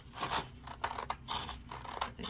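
Scissors snipping along the edges of a sheet of sketch paper, a close, faint series of short crisp cuts and paper rustles with no talking.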